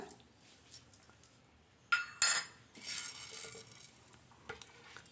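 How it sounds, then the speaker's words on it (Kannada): Small peeled pieces of raw mango dropped into a mixer jar, a few sharp clinks and clatters against the jar in quick bursts, fairly close, between quiet pauses. "ಈಗ ಇದನ್ನು ಮಿಕ್ಸಿ ಜಾರ್ಗೆ ಹಾಕೋಣ. ಈಗ ಮಾವಿನಕಾಯಿ ಹಾಕೋಣ."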